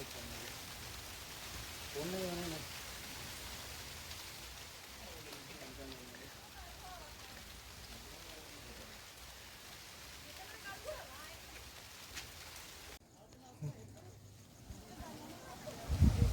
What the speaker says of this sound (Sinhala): එකපාරටම මේ වැස්සක් ආපු හින්දා